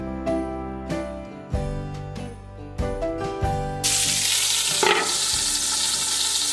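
Sausage frying in a cast iron skillet: a few metallic clanks and ringing tones, then a loud, steady broadband sizzle takes over and continues close up, with no talking.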